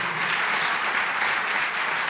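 A church congregation bursts into applause during a sermon, a loud, dense and continuous wash of clapping that holds steady from start to finish with no talking.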